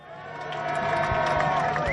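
At a Bentley Cup polo final, a crowd cheers for Julius Baer. Broad, steady crowd noise swells and holds under a loud announcer's voice over the public address.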